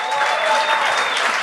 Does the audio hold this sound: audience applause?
yes